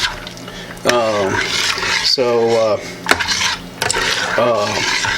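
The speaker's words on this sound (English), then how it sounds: "just stir it a little bit, and you want to remember to stir this as it's cooking" Macaroni stirred in a pot of boiling water for Rotel mac and cheese, a spoon scraping and clinking against the metal pot in repeated strokes, close and fairly loud, while a person talks over it.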